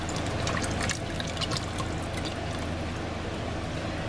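Sauce with added water poured from a jar into a Farberware electric pressure cooker holding meatballs and pasta, a steady liquid stream and splashing that runs the whole time, close and moderately loud.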